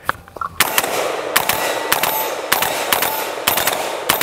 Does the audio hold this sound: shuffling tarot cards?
no